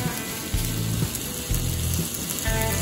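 Wagyu beef sizzles on a grill plate at a campsite bangalow, a soft steady crackling hiss with faint periodic low hums, close and fairly quiet.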